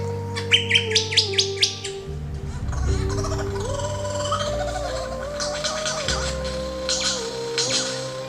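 A lyrebird, a mimicking songbird, calls with a quick run of sharp repeated chirps followed by varied tonal whistles and shifting mimicked notes, close and clear over a low steady background.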